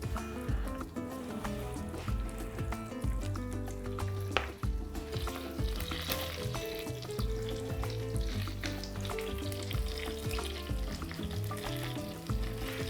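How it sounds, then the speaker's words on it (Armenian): Layers of cabbage frying in a pan give off a loud, close, continuous sizzle and crackle that holds steady throughout, with occasional stirring scrapes and liquid spatters. "Մինչ կաղամբը տապակվում է"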